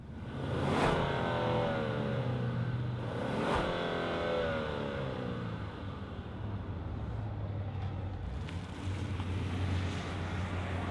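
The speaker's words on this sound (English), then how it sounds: "let's fire up the engine we have before us and hear what it sounds like" A 2025 Genesis G80 3.5T twin-turbo V6 starts and revs, two sharp rising blips early on settling into a smooth, fairly quiet idle heard from close by.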